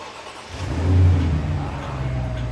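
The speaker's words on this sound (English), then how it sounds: "That exhaust sounds really good." A 2008 Mercedes CL550 engine fires up and revs, its exhaust rumbling deep and loud, then settles into a throaty idle.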